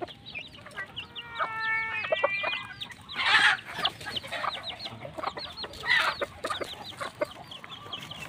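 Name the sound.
white kelso chick being fed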